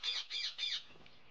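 A quail gives three quick, sharp, high-pitched calls in an even rhythm, close and clear, then falls silent.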